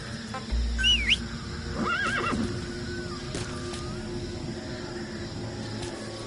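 A horse in the video game Metal Gear Solid V whinnies loudly, with a second, longer neigh following, over a low outdoor ambience and faint hoof sounds.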